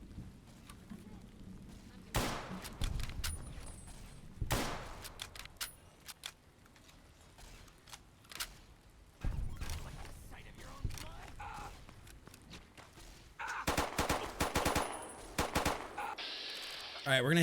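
Video game gunfire cracks out in several sharp bursts and a few rapid volleys, loud and close, broken by quieter gaps with low murmuring and clicks between the shots.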